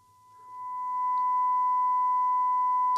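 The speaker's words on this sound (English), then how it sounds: "So now I'm going to switch on the tone." A steady pure sine test tone from a signal generator, injected while restoring a Graetz Melodia 519 radio, fades up over the first second and then holds level and constant, with faint low hum beneath.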